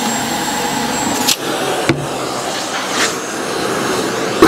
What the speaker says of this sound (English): we asked if your vacuum cleaner is loud and if it sounds like a jet engine when you turn it on